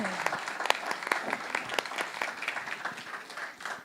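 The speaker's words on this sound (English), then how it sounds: "We get a round of applause for that answer." An audience claps in a sustained round of applause, dense and fairly even, with individual claps standing out. It is moderately distant and fades slightly toward the end.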